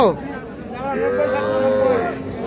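A cow gives one long, loud, close moo lasting about a second at a busy rural cattle market where cows and calves are sold, with people talking around it.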